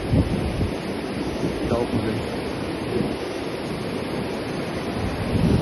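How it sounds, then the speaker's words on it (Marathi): Water rushes and churns loudly and continuously nearby at a hot spring in Kasol, a broad roaring wash with a few voices faintly underneath. "पाणी भरपूर जोरात आहे."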